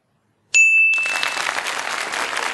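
Quiz-answer sound effect: a bright electronic ding rings out, and a moment later loud canned applause swells in and carries on steadily to the end.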